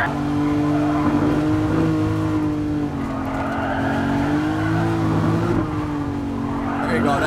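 A V12 car in GT Sport accelerates hard in second gear, its engine droning loud and steady with rising pitch and some tire squeal.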